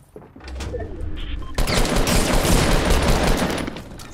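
Rapid automatic gunfire in the Fortnite battle royale video game, a dense, loud continuous burst that starts softer and intensifies into sustained firing over low background sound.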